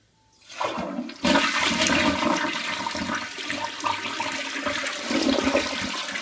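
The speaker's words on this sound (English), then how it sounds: "I'll go ahead and flush this real quick to show what the proper flush is supposed to be" A toilet that has just been unclogged flushes with a sudden loud rush of water from the tank, followed by a steady swirling gurgle as the bowl drains and refills, heard close and alone.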